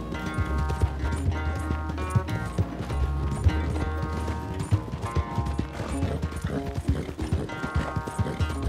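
A horse gallops during a race in the video game Red Dead Redemption 2, with rapid rhythmic hoofbeats throughout alongside mechanical clatter, layered in-game music and a brief neigh.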